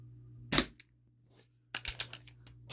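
Ruger Mark IV air pistol fired with H&N lead-free pellets: one sharp close crack, then a quick cluster of clicks and snaps from handling the gun between shots.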